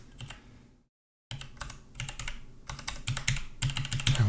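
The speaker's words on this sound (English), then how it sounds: "Hello, keyboard." Typing on a computer keyboard during a programming session: bursts of quick, close key clicks in irregular rhythm, with a short silent gap near the start before the typing resumes and grows busier.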